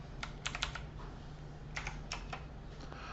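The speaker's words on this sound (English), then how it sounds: "Helps if I type right." Keys on a computer keyboard clack in short, quiet bursts of quick taps with pauses between, close and alone.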